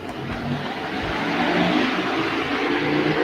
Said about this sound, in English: That stupid motorcycle.